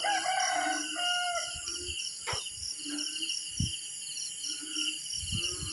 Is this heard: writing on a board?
no